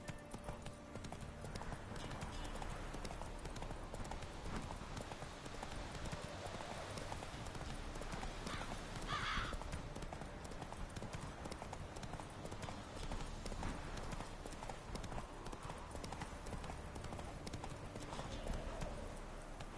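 Horse hooves clip-clop steadily through a PS4 video game, the rhythmic clatter continuous across a dense, busy game soundscape with a brief whinny-like burst midway.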